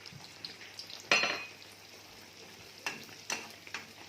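Balloon bread made from milk and flour fries in a pan with a soft, continuous sizzle. Several sharp clatters and scrapes cut in as the bread is flipped and handled.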